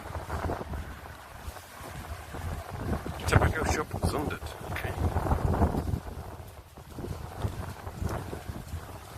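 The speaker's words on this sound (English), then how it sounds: "just windy, as you can probably tell from the noise" Gusty wind rumbles and buffets the microphone outdoors while a person talks, the blustery roar rising and falling throughout.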